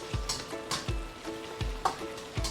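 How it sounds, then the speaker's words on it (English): Ingredients for fried mee sua being stirred in hot frying oil: a steady soft sizzle broken by regular scraping strokes of a utensil against the pan, roughly every half second, close and moderately quiet. "Let's give it some stir"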